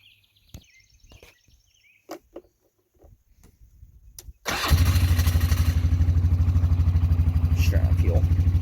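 An old four-wheeler ATV on a farm starts up after a few faint clicks and knocks, then settles into a loud, close, steady idle with a quick rhythmic putter.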